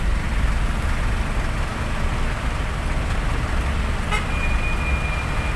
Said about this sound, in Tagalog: Grabing traffic